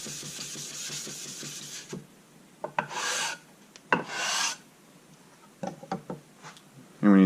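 Straight razor honed on the coarse brown side of a sharpening stone: quiet rhythmic scraping strokes, then several louder, harsher rasping passes with brief pauses between them, close up.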